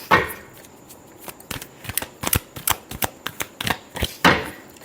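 Tarot cards being shuffled by hand: a loud riffling burst opens and another closes the stretch, with a run of crisp, irregular taps and flicks of card edges between them, close and clear with no talking.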